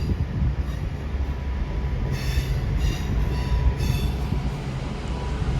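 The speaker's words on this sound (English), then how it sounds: "Ex-Avanti Voyageur departing along with a 323." An ex-Avanti Voyager diesel train pulling out of Manchester Piccadilly alongside a Class 323, a continuous low rumble with a few brief high wheel squeals, moderately distant and steady, with no talking.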